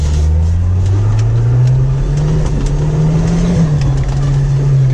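Jeep TJ engine revving hard while drifting through snow, a loud, close, sustained drone with pitch rising and falling as the throttle works, steady and unbroken throughout.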